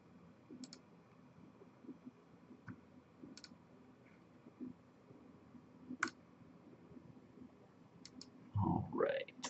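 Scattered single mouse clicks at a laptop while connecting to a wireless network, faint and sparse across the stretch, with a brief burst of talking near the end.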